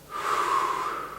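Deep, steady breath during a knee release workout, one long breath drawn in and let out over about a second, close and fairly quiet with no talking.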